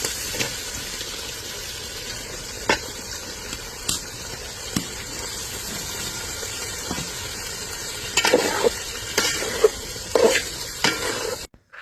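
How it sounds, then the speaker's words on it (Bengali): Spices and beef are stir-fried in a pot over a clay stove while cooking thin khichuri, producing a steady sizzle with scraping stirs and clanks of the utensil against the pot that grow louder near the end, with no talking. "আর সব মশলা দেওয়ার পরে ভালো মতো মশলাটা কষায় নিব।"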